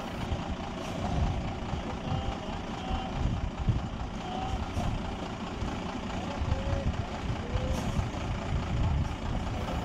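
A Unimog expedition truck crawling off-road during 4x4 training, a steady low diesel rumble with faint mechanical whines, moderately close and continuous, with no clear speech.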